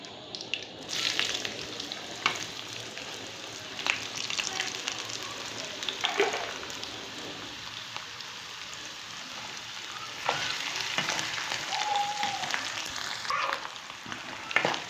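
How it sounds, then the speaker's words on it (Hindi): Potato pieces fry in a pan over a low flame, giving a steady soft sizzle through the whole stretch, with occasional brief stirring scrapes and a few small pops. "धीमी सी आंच में इसे पकाना है। ये हमारे आलू थोड़े से गोल्डन होना शुरू हो चुके हैं"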